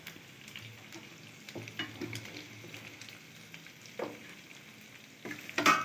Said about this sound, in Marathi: इडली फ्राय